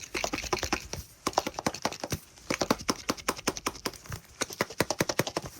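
Rapid rattling knocks as small contents bounce inside a shaken, tightly packed plastic Miniverse capsule, a dense irregular clatter with brief pauses.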